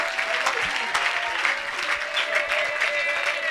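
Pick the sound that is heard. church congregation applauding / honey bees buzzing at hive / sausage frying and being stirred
church congregation applauding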